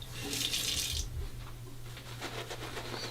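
A bathroom tap runs briefly during a wet shave with a Feather DERA adjustable razor. A short, soft splash of running water gives way to faint trickles and small clinks.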